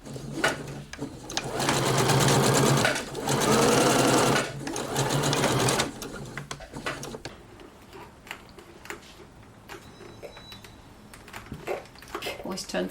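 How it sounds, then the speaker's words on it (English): A sewing machine closes a small sleeve seam on a blouse, running loud and close in a fast, even whir for several seconds with a brief pause, then stopping and leaving quieter handling noises and light clicks. "So I'm going to close that little seam now."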